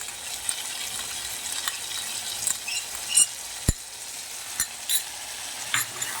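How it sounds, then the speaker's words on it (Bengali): Chilli chicken sizzles in a pan with tomato and soy sauces, a steady close frying hiss broken by scraping stirring strokes and a sharp clack of a utensil on the pan. "এটা আর বেশি ভাজবো না, এটুকুই ভাজবো।"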